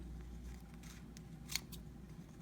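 Scissors snip off fabric and thread ends beside a sewing machine, a few faint, close, crisp cuts over a quiet low hum, one sharper snip standing out.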